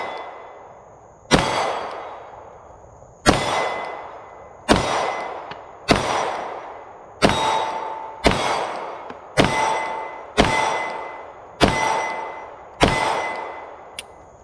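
Rapid pistol fire from a Glock 48 MOS at a shooting range, ten sharp close shots in a quick uneven rhythm, each crack ringing out briefly before the next.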